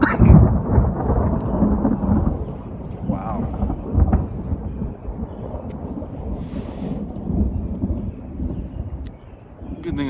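Thunder rumbles through a lightning storm, a continuous low, heavy roll lasting throughout with surges near the start and middle, mixed with wind noise on the microphone; someone speaks briefly over it.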